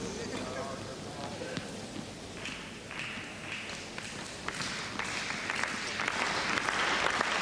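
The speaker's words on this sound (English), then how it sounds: "Slightly sparse crowd in the Schleierhalle, trying to get behind Andre Agassi." A slightly sparse indoor tennis crowd claps in Stuttgart's Schleyerhalle during a 1997 match, a steady patter of applause that swells toward the end, heard under a commentator's voice.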